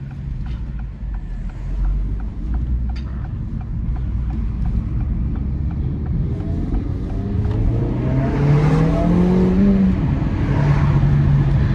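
A 2024 Acura Integra Type-S accelerates on the road, its engine note rising steadily through the gears from inside the cabin, loud and continuous with no talking.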